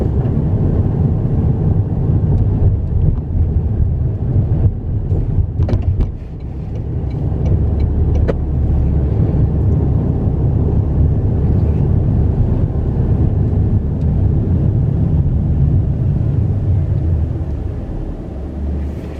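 Interior of a car driving home on the road, a steady loud low road and engine rumble with broadband hiss that holds constant, briefly dipping partway through, with no talking.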